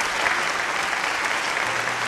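Studio audience at a televised dating show applauding, a dense, even wash of clapping from many hands that holds steady and fairly loud for the whole stretch.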